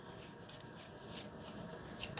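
A deck of oracle cards is shuffled by hand, giving soft, quiet riffling and sliding card flutters in a few light bursts.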